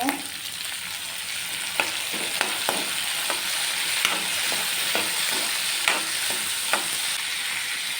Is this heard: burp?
no